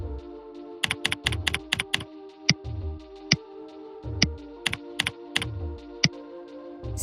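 Typing on a computer keyboard, close and clear, with irregular clusters of crisp key clicks over a faint steady background hum, no speech.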